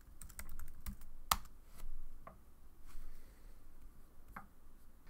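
Credit card details being typed on a computer keyboard, a close run of quick irregular keystrokes that thins into scattered single taps with pauses, quiet, with no voices.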